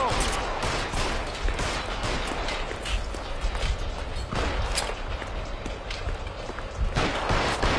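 Gunfire in LA Noire: a rapid series of sharp, close shots cracks out in irregular bursts, with distant reports and scuffling between them.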